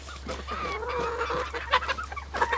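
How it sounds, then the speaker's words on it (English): Farmyard rooster and hens clucking close by, excited bursts and short calls over a steady low hum, the birds gathered for meat scraps tossed out while a beaver is skinned and fleshed. "I don't know if you can see Mr. Rooster right here"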